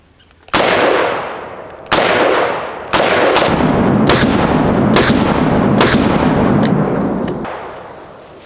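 Smith and Wesson 350 Legend revolver fired outdoors, three loud booming shots spaced about a second apart, then a rapid string of sharp cracks with lingering echo.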